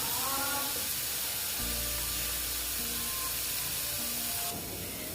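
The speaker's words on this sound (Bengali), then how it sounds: "পেঁয়াজের আর আদার কাঁচা গন্ধটা না যায় ততক্ষণ অবধি দেখো ভালো মতন এটাকে ভেজে নিচ্ছি" Onion and ginger frying in a pan, a dense continuous hiss and sizzle at fairly loud level, steady throughout with faint tonal hum underneath and a slight change in texture near the end.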